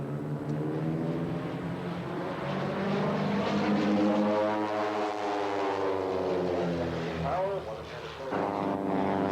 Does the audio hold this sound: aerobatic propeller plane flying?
yes